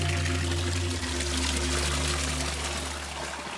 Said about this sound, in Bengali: দেখুন একটি শিশু ঝর্ণা